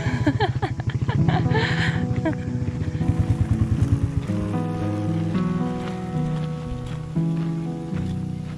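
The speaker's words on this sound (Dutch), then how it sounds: "En nu gaat de motor aan." A boat engine hums steadily throughout, its low drone running under voices and some clattering, fairly close and loud.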